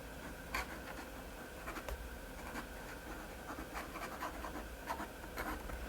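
An old fifty-year-old fountain pen nib dipped in ink scratches across paper, a close, continuous dry rasp with small irregular strokes and ticks.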